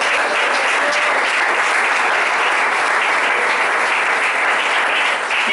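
A church congregation claps loudly and continuously during a sermon, a thick, even wall of applause lasting the whole stretch without pause.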